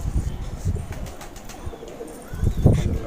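Pigeons of a large-winged, closed-tail Kalsire Ambersare breed give low coos mixed with brief bursts of flapping wings, close and moderately loud, in short uneven clusters.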